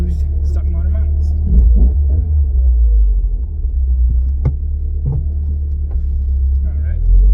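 Car fitted with urethane-infused stock engine mounts on a test drive, a steady loud low engine rumble and road drone from inside the cabin, with a person talking over it.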